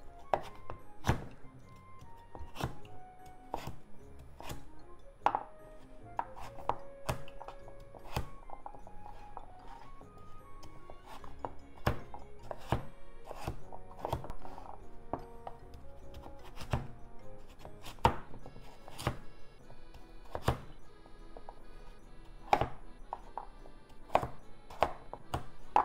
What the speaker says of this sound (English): Cut into small pieces.